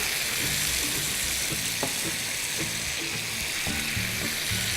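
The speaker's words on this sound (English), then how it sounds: "Now I'm going to add the stock." Stock hits hot oil infused with aromatics in a pan and sizzles steadily, a dense continuous hiss with faint scattered ticks and bubbling, close and even throughout.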